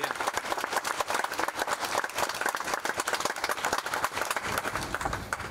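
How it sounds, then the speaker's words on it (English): Audience applause for the Premier at an outdoor school funding announcement, a dense rapid patter of many hands clapping steadily for several seconds with no talk over it. "Thank you for the clap."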